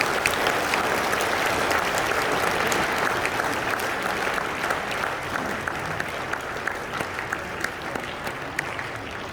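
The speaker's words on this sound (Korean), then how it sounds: "42회 대회를 3박 4일 동안 믿음으로 섬겨주신 자원봉사자들에게 힘찬 감사의 박수를 보내주시기 바랍니다" An audience at the closing ceremony of the 42nd National Elders' Convention, a Korean church gathering, gives sustained applause to the volunteers. The clapping is dense and even, lasts the whole time and slowly fades a little toward the end.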